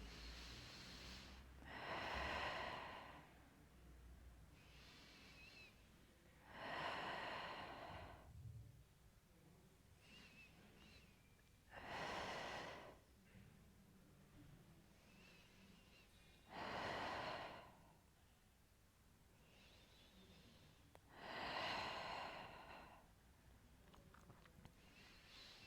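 Slow, audible breaths during a Pilates workout: five strong, airy exhalations spaced roughly every five seconds, with quieter inhalations in between, close to the microphone and with no talking.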